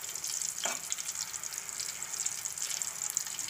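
Chicken koftas frying in oil over a low flame give a steady, soft hiss and crackle, fairly faint and continuous, with a brief clink near the start and no talking.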